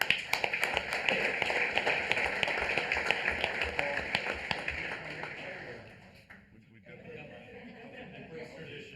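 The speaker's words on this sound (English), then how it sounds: "I want to hear a round of applause for these people" Applause from a county board of commissioners meeting crowd honoring 911 dispatchers: a dense, steady patter of many hands clapping for about six seconds, then tapering off into quieter room noise.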